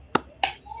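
Students in a classroom give a single sharp clap, a brief crisp slap heard close by, followed by a softer second sound.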